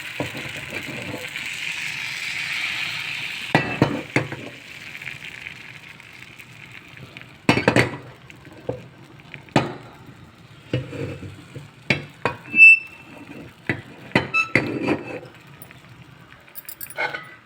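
Appam batter cooks in a heated appam pan with a soft sizzling hiss at first, followed by scattered metallic clinks and scraping taps of utensils against the pan.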